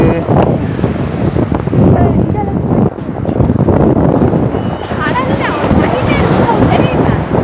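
Sea waves rush up a beach, a loud, continuous roar of surf with heavy wind buffeting the microphone, while people talk and call out over the water.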